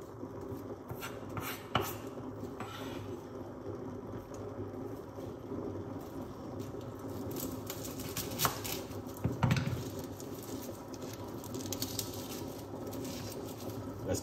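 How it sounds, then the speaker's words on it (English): Garlic is crushed by hand, giving repeated soft pounding and grinding taps with scattered clicks and scrapes over a low kitchen background, a few louder knocks standing out. "Crushing up some garlic"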